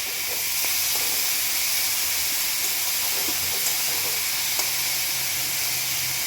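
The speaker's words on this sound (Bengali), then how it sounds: "দেখো আমার চিংড়ি মাছটা ভাজা হয়ে গেছে" Shrimp fry in a pan with a dense, steady hiss of close sizzling and a few faint clicks of stirring throughout.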